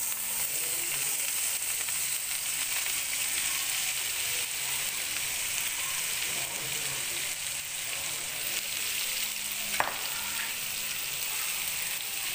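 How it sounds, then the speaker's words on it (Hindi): Chana dal tips into oil with roasted cumin and fries, a steady bright sizzle that holds throughout, broken by one sharp clink near the end. "ज़ीरा हमारा भून गया है तो हम दाल डालेंगे।"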